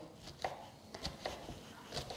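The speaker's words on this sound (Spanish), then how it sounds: "lo vamos picando pequeñito" A knife chops mushroom finely on a board, giving soft, irregular taps roughly every half second, quiet and close, with no voices.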